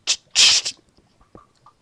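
An Enderman in the Minecraft video game gives short bursts of harsh, hissing, distorted noise, with one long screech in the middle. Faint blips follow, and no one speaks.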